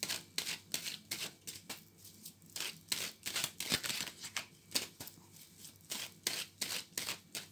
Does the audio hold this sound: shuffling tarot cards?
yes